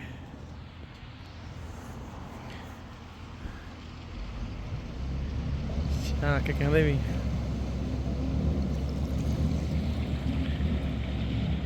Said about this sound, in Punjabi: ਤੁਹਾਨੂੰ ਅੱਜ ਪਾਣੀ ਵਾਲੀ ਬੱਸ ਦਿਖਾਉਣੇ ਆ